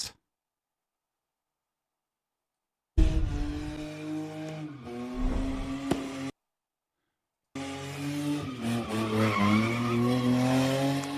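Cars spin donuts at an early-morning street sideshow in San Francisco's Sunset District, with tires squealing and skidding in two loud bursts separated by silence.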